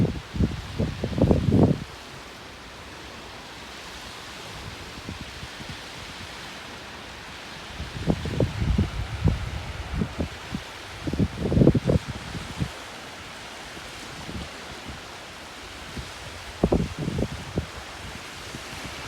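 Gusts of wind buffet the microphone on a sunny beach at Discovery Park on Puget Sound, in irregular low rumbling bursts over a steady outdoor hiss, with quieter stretches between gusts.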